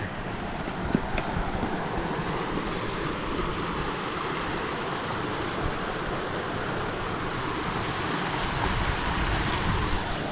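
River water rushes at a crossing in Scotland with no bridge, a broad, steady wash of flowing current that stays constant and fairly close throughout.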